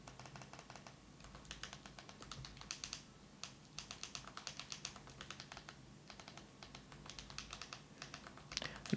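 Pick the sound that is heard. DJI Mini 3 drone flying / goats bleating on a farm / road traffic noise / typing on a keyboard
typing on a keyboard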